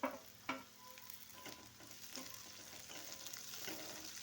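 Sliced onions and green chilies fry and sizzle in a pan with steady crackling, opening with a couple of loud stirring scrapes before settling into a continuous sizzle.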